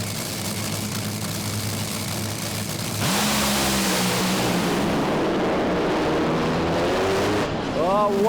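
A Top Fuel dragster at a raceway thunders down the track, a loud, raw engine roar that surges in and climbs in pitch, with a commentator talking over it.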